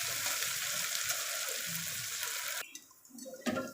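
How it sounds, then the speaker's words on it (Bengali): Garlic and green chili frying in hot oil give a dense, steady sizzling hiss that cuts off abruptly about two-thirds through, followed by quieter low clatter and a brief burst of sound. "আমি রসুন আর লঙ্কাটা তেলের ওপর দিয়ে দিলাম। এটা একটু লাল লাল করে ভেজে নেব।"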